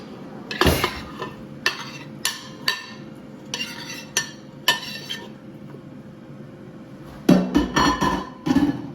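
Pieces of pork belly are dropped into an Instant Pot, giving a series of separate metallic clinks and knocks, with a faint hum underneath and a quick flurry of clatter near the end.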